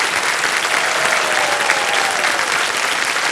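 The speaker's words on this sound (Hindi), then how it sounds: "एक बार फिर जोरदार तालियां बज जाएंगी" A studio audience on a television quiz show breaks into loud, dense applause, continuous clapping from a large crowd that stays strong and even from start to finish.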